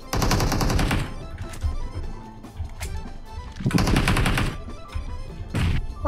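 Automatic gunfire in a mobile shooter game during a Conqueror-tier ranked match: two long, loud rapid-fire bursts bracket scattered single shots and shorter volleys, with no talking.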